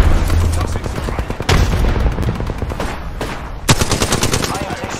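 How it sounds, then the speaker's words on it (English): Loud, rapid automatic gunfire from the video game Apex Legends comes in repeated bursts with sharp shots and brief pauses, some at close range. "I am taking fire, friends. Opening fire on the enemy."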